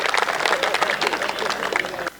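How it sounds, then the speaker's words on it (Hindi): A kavi sammelan audience breaks into a short burst of dense clapping that lasts about two seconds, with some voices mixed in. "ताली बजा दो अच्छा"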